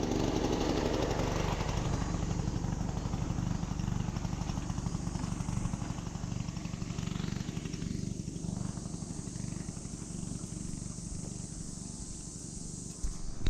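A hammer knife mower cutting grass, a loud continuous engine drone with a rough, buzzing blade roar that holds steady and close throughout.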